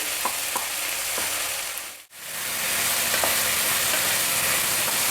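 Cut ivy gourd frying in oil, a loud steady sizzle with light utensil taps, briefly cutting to silence midway before the hiss resumes.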